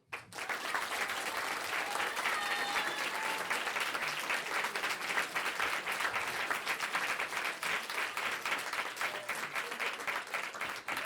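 An audience at an eloquence contest breaks into sustained applause, a dense, even wash of many hands clapping that holds steady for about ten seconds.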